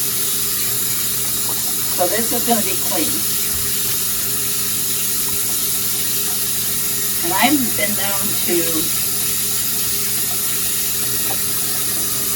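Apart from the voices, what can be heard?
rinsing doll clothes under running tap water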